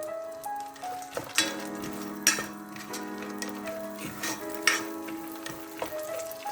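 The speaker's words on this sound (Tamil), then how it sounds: "இது லைட் ப்ரௌனாக வர காட்டியும் வறுத்துடலாம்." Cut almonds frying in butter in a pan give a soft, steady sizzle, with occasional clicks and scrapes of a spoon stirring them close by; music with sustained tones plays underneath and no one speaks.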